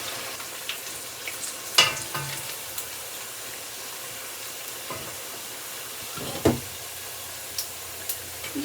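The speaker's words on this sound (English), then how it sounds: "These are going to fry for about 6 minutes." Halibut and corn fritters fry in hot oil with a quiet, continuous sizzle, broken by a few sharper pops and crackles; no one speaks.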